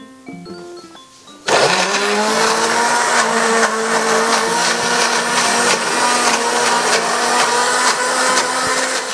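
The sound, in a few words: blender grinding shallots and garlic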